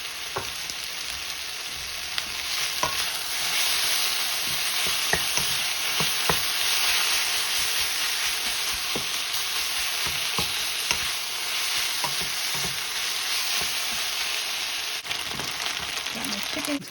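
A little garlic frying in a pot while cooking chicken chow mein, giving a steady, hissing sizzle with occasional faint stirring clicks throughout and no voice.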